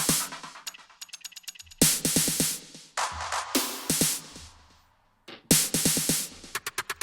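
Tech house remix playback with weird drums and odd sound effects layered together, punchy kicks and bursts of bright noise cutting in and out in choppy sections with brief drops to near silence.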